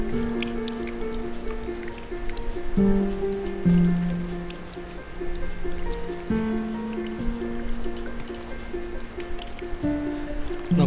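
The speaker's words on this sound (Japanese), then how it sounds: "なんかさっきからちょろちょろちょろちょろ音がするな。" Soft trickling water in a video game, with faint dripping and dribbling running steadily beneath louder tonal game music for the whole stretch.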